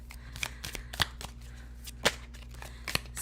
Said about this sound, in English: Gonna do a quick little shuffle to get it all warmed up